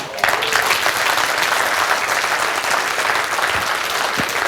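An audience applauds during a Hindi talk on traditions and science, sustained dense clapping filling the whole stretch at a steady, fairly loud level.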